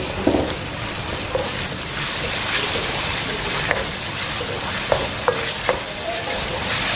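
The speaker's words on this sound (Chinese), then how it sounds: "小火炒出酱香味，" Sweet bean sauce stir-frying over low heat with diced pork, ginger, garlic and onion in a wok, giving a steady close sizzle with occasional soft scraping clicks from the spatula.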